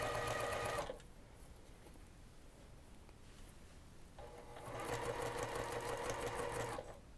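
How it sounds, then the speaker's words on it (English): A sewing machine stitches quilt pieces together in two short runs of fast, even mechanical whirring, separated by a quiet pause of several seconds. "So we'll sew that."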